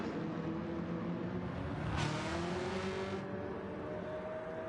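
Race car engines in a racing video game, 1,000-horsepower Camaros at Le Mans, droning and rising in pitch as they pull down the backstretch, with a brief whooshing swell midway as one passes close.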